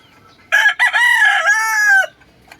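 A backyard rooster crows once, loud and close, in a drawn-out call lasting about a second and a half with quiet surroundings before and after.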